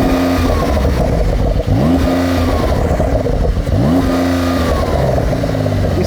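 Close, loud revving from a new Porsche 911 R's turbo engine, with two sharp throttle blips that climb and fall back over a steady idle, and no voices.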